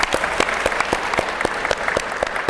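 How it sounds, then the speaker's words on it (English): Audience applause for local election officials at a panel event, a steady burst of many hands clapping with a few sharp individual claps standing out. "Let's give them a round of applause"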